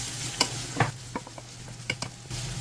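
Grated carrots stirred gently in a frying pan for white borscht, a faint low sizzle under a handful of soft spatula scrapes and light taps, close and quiet without voices.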